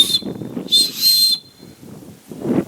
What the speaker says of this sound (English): Not the best whistle in the world, but it's a whistle.